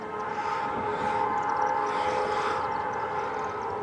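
A short CN southbound local freight train approaches at a rail crossing in Richmond, Michigan, its horn blaring in a sustained loud tone over steady rumbling rail noise, with no talk.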